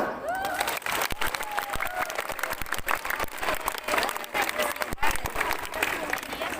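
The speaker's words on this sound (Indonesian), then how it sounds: "Tepuk tangan dulu semuanya." A crowd at an outdoor police ceremony claps in sustained, dense applause with a few shouts and cheers, while a voice speaks over it.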